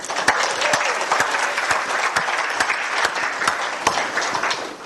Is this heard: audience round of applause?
yes